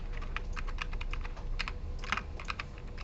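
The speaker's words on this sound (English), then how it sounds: "What is wrong with my keyboard?" Rapid, uneven clicking of fingers typing on a computer keyboard during a recorded programming lecture, close and steady for about three seconds with no talking.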